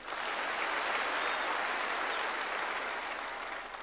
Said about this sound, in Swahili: Nyinyi chiefs, these great people, mujipigie makofi.